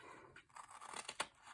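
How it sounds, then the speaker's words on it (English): A pair of scissors cuts through a paper envelope in a few crisp, close snips, the sharpest near the end, with quiet gaps between. "Sue now has to try and cut straight with a pair of scissors."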